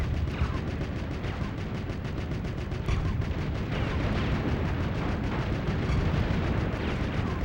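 Rapid bursts of tank cannon and gunfire from a tank video game ring out continuously over a dense, rumbling battle din, loud and close throughout, with no voices.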